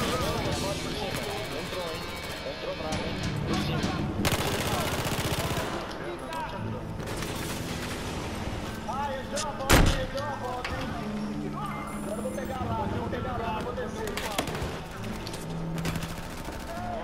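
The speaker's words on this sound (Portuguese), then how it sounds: "olha lá, do outro lado atirando vocês" Rapid automatic gunfire and scattered shots from an online Battlefield 4 match on PS4, constant bursts throughout with one louder blast midway, while players talk over it.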